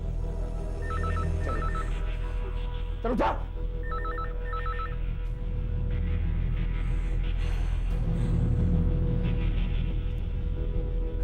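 An old-style telephone bell rings in short repeated bursts inside a home during a tense police drama, while people talk and move nearby.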